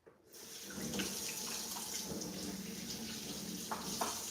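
Kitchen tap running steadily into a sink as hands are washed before cooking, a continuous close splashing wash of water with small splashes and shifts in the flow, no talking.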